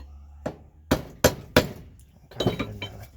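Hammer blows tapping a new front wheel bearing home into the hub of a Classic Mini, four sharp metallic strikes spaced unevenly, close and loud, with a short flurry of lighter clinking taps at the end.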